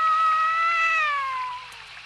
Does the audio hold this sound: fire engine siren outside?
no